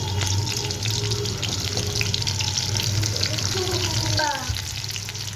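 Green chilies fry in a small amount of oil in a kadai, giving a constant sizzle with running water and some kitchen clatter. The sizzle drops off near the end.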